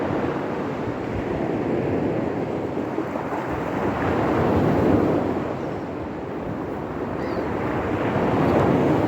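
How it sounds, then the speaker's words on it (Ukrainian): Black Sea surf washing onto the beach at Odesa, a steady broadband wash that swells and eases near the middle, with wind buffeting the microphone and no voices. "А ще можна пограти із хвилями в нас доганялки"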